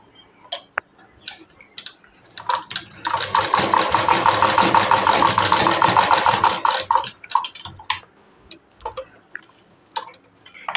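A sewing machine stitches a sleeve in one steady run of fast, buzzing needle strokes lasting about four seconds, with faint handling clicks before and after.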